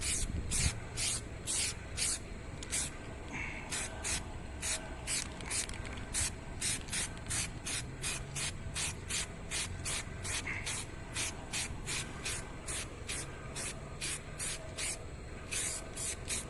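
A spray gun applying a light first coat of 1K primer filler, heard as a steady run of short, evenly spaced hissing bursts with soft mechanical clicks between them, close and continuous.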